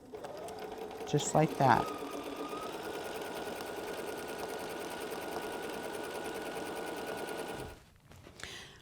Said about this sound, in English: now I'm going to start stitching again, ½ inch seam allowance